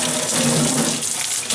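Water sprays hard and steadily from a kitchen sink's pullout faucet sprayer, a loud, close, continuous hiss with no talk.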